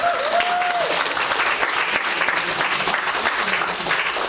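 A crowd applauds steadily at a mural arts symposium, a dense wash of clapping that fills the room without pause.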